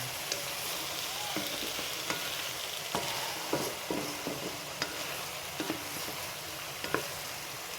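Oyster mushrooms fry for Bicol express, a steady, close, even sizzle with scattered small pops and clicks from the pan running throughout, with no talking.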